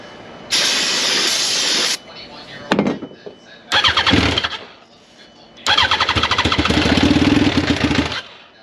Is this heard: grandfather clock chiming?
no